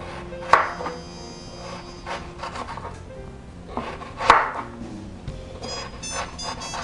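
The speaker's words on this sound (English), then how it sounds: "I'm going to cut this in half and do some smaller chips too" A knife cuts a turnip in half for chips, giving two sharp, close crunching slices with scraping rasps between them over a low kitchen background, no talking.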